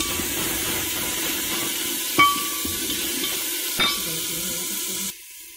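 Onion, ginger, green chili and crushed garlic frying in a pan in a rural Punjab kitchen, a steady close sizzle with a couple of sharp utensil taps, cutting off abruptly near the end.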